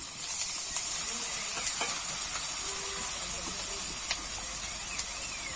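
Cumin and coriander paste sizzling in hot oil with fried ginger and garlic for a Bengali prawn and fig curry, a steady close hiss with scattered crackles and soft stirring scrapes.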